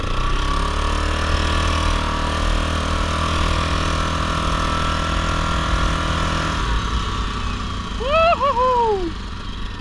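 A Yamaha Grizzly 660 4x4 ATV engine runs steadily and close by for most of the stretch, then its tone drops and thins, with a brief rise in revving near the end.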